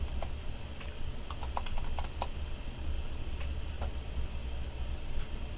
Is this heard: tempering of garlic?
no